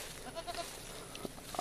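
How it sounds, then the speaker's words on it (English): Goats kept on a rural property bleat in a few short, fairly faint calls against a quiet outdoor background, with no talking. "These are my goats."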